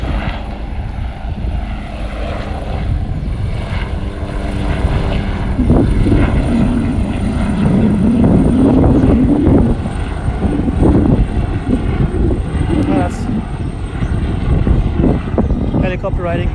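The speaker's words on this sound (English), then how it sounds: "it's another helicopter rising up out of Ogle Airport." A loud, steady helicopter roar with rotor thrum fills the whole stretch, swelling slightly as it rises from Ogle Airport, with no talking.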